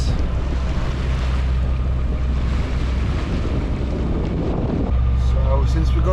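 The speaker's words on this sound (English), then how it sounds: "since we're going by an engine now" A sailboat motors under engine power through cold Icelandic fjords, its steady low engine drone running continuously beneath strong wind buffeting and water wash, loud and close throughout.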